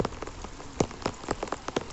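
Heavy storm rain pours onto a flooded rice paddy in Sitanagaram, Kadapa district, with a close, steady hiss broken by sharp individual drops spattering at irregular intervals, and no voices.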